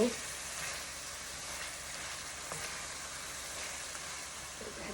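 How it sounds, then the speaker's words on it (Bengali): Chicken and potatoes fry in oily spice masala, giving a dense, steady sizzle up close with occasional stirring and no voices. "মশলার ভিতরে তেল উঠে গেছে এখন আমি আমার চিকেনগুলো দিয়ে দিব"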